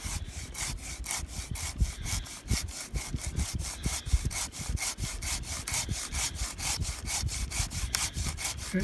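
Steady, continuous sawing through the trunk of a pear tree being trimmed in a pasture, with rapid rhythmic strokes and a gritty wood-cutting rasp, loud and close throughout with no talking.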